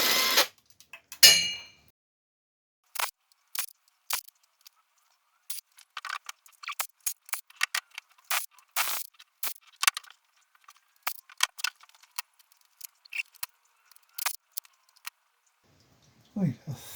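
A 10mm socket ratchet undoes the sump bolts on a Ford Escort Mk1, giving bursts of quick metallic clicks spread across the work, close and fairly loud, with a short voice at the very end.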